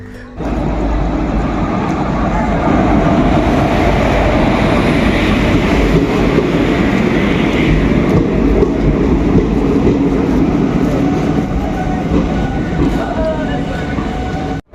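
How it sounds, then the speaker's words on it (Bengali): The Rani Shiromoni Express pulls out of Bishnupur station, its steady loud rumble and rhythmic wheel clatter filling the carriage continuously, with faint voices inside. "তো একদম ছেড়ে দিল বিষ্ণুপুর থেকে আমাদের ট্রেন"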